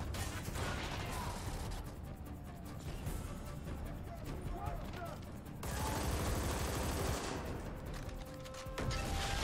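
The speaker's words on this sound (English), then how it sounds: "Machine gun." Machine gun fire rattles in dense bursts in Army of Two: The 40th Day, loud and close, with rapid repeated shots and louder stretches near the middle and end, amid general combat noise.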